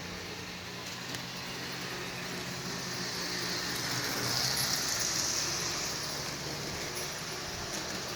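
Lionel model rail car driven by a propeller aeroplane motor, running on track power: a steady whirring drone with faint rolling noise that swells slightly midway, continuous and unaccompanied by talk.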